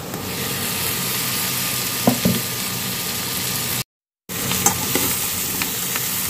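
Bitter gourd (karela) fries in a pan with garlic and a little cumin paste, giving a steady, dense sizzle with a few soft stirring knocks and a brief dropout to silence partway through.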